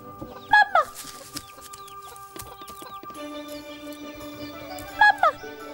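Chickens in a chicken house in an animated episode give two sharp, close clucking bursts a few seconds apart, with quieter scattered sounds in between.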